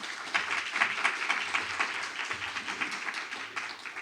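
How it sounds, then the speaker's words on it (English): Audience applause at an education lecture event, steady crowd clapping filling the room for several seconds with a dense, even texture and some low murmur underneath. "Let's give them a round of applause"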